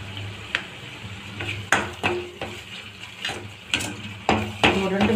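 Onion with ginger-garlic paste sautéing in a pan for soya chunk gravy, a spoon stirring and scraping at intervals over a soft sizzle, with sharp clinks against the pan.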